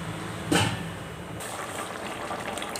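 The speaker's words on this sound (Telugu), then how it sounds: "1 లీటర్ వాటర్ కూడా వేస్తున్నాను ఫ్రెండ్స్" Water poured into a pot of fish curry, a brief gushing splash near the start, then a soft ongoing liquid wash at close range.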